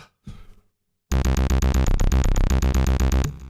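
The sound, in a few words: MIDI arpeggiator synth pattern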